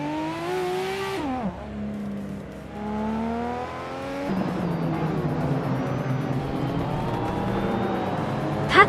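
A 1984 Ford RS 200 race car in a racing video game revs loudly nearby, its engine pitch climbing and dropping through gear changes, then holding a steady high drone as it drives on.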